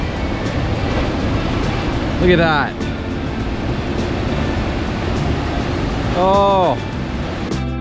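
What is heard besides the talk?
ocean waves breaking at a Big Sur surf spot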